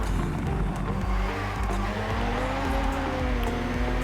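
A car slides through a chicane in the Forza racing game, its engine revving and shifting in pitch amid wheel spin while the tyres squeal underneath; loud and continuous, with no talking.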